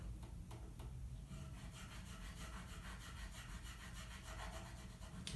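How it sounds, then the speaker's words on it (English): A file rasps at an angle across the wood of a left-handed ukulele, with short, quick repeated strokes coming close and soft against a rumbling low background. "I'm filing at an angle."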